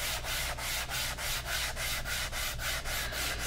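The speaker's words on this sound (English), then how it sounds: "now we're gonna go to this lighter grit sander, and I think this is a 120" A 120 grit sander buffs a wooden lazy susan, a steady close rubbing drone pulsing in a quick regular rhythm, with no talking.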